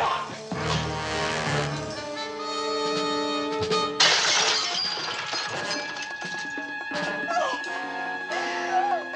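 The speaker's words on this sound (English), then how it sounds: "Your safety glass is hard to break." Safety glass window shattering in a crime drama scene, a sudden loud crash with tinkling fragments cutting through background music.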